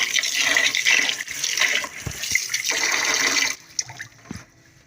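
Rice for peas pulao is rinsed by hand in water, sloshing and splashing in uneven surges with a few soft knocks against the vessel, close by, tapering off near the end.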